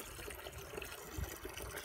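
Water pouring over a man named Tomáš from a bucket: a quiet, close splashing gush with a brief heavier slosh midway, no speech.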